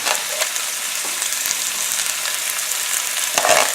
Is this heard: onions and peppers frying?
yes